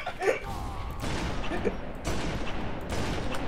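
Gunfire in a Halo 3 multiplayer match, several sharp weapon bursts and impacts spread across a few seconds, loud and close, with no talk over it.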